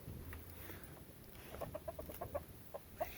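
A rooster and hens clucking in a backyard pen, soft, fairly distant clucks that grow more frequent toward the end over a quiet outdoor hiss.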